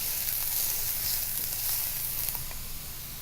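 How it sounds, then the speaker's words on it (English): Onions sautéing in hot olive oil in a pan, a steady close bright sizzle with soft crackles throughout, no voices. "I'm going to saute my onions until they're translucent."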